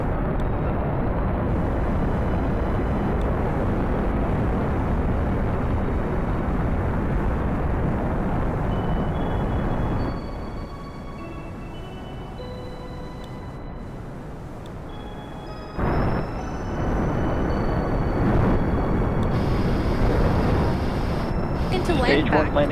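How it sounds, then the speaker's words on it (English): A Falcon rocket's first stage fires its landing burn in the Spaceflight Simulator game, a loud, steady engine roar that drops to a quieter stretch midway before surging back to full strength. "the landing burn for stage 1 has begun"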